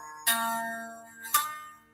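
Two plucked open guitar strings ring out one after the other, each with a slightly rattling, buzzy sustain that fades slowly.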